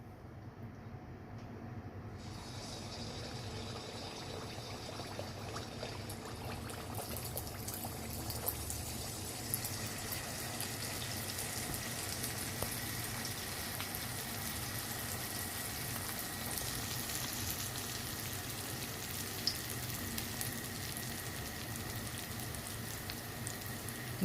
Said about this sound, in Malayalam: അപ്പം നമുക്ക് ആദ്യത്തെ നെയ്യപ്പം ഒഴിക്കാം